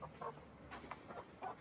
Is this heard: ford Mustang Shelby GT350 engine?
no